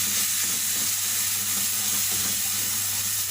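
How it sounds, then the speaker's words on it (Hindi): Spiced masala mixed with yogurt frying in a pan: a loud, continuous close-up sizzle and hiss with a low steady hum underneath and no talking. "और 2-3 मिनट इस मसाले को अच्छी तरह से भून लेंगे"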